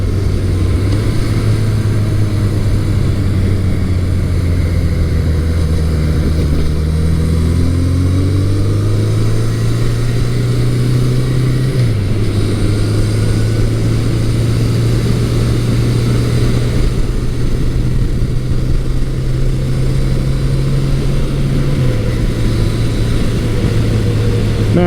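A 1983 Suzuki GS1100E motorcycle ridden on the open road gives a loud, steady engine drone throughout, its pitch stepping up at a few gear shifts, with no talking.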